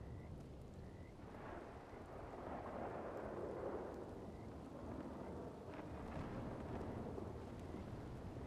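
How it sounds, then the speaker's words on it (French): Thunderstorm rumbling over steady rainfall, a long low roll of distant thunder swelling and fading beneath continuous patter with no talking. "l'orage, il s'arrête pas."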